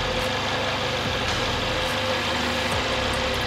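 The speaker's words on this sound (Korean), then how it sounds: "엔진 소리 일정하고 좋습니다" A Mercedes-Benz A45 AMG 4MATIC engine idles steadily up close, a constant low rumble with an even hum that never changes pace.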